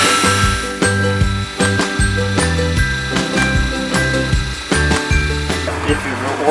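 A saw cuts through a piece of matrix boulder opal, a loud, steady mechanical whine with repeated rhythmic pulses as the blade bites the stone, continuing without pause.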